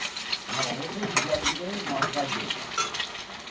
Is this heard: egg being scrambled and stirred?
yes